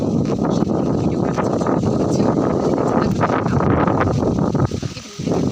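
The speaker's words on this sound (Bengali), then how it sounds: "অনেক বাতাস।" Strong wind blows in a steady, loud rush across the microphone for several seconds, with gusty flutter and no clear voices.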